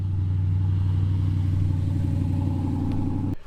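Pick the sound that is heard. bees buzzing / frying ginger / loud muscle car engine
loud muscle car engine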